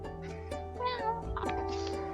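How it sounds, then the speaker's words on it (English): A cat at a campsite in Port Dickson, Malaysia meows a few short times, fairly close, under and between a person's talking, with a steady hum in the background. "Oh, there's a cat peeing here. Hello, meow meow."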